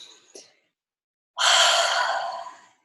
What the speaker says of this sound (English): The last few seconds, taking another deep breath,